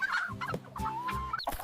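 A hen clucks in a quick, close series of bright, throaty calls with short gaps, heard alone and fairly loud.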